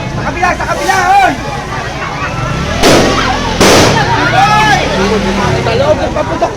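Two sharp, loud firecracker bangs burst close by amid a crowd's lively chatter and shouting at a Flores de Mayo festival in Bayanan, Muntinlupa.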